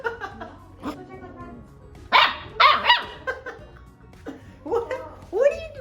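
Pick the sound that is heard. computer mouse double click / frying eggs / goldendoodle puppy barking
goldendoodle puppy barking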